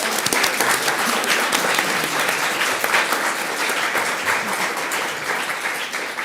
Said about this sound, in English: An applause for these.